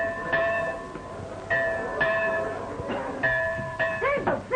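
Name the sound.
bell ringing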